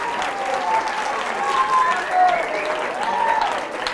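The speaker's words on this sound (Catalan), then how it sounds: "Aplaudiment per ells, si us plau." Studio audience applause for school contestants from Institut Forat del Vent de Cerdanyola on a televised word quiz show, a steady four-second wash of clapping with voices rising over it.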